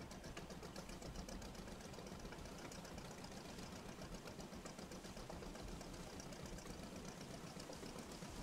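A fishing boat engine in the Fishing: Barents Sea game drones with a steady, rapid mechanical chugging as it picks up speed. It stays quiet and even throughout, with no talk.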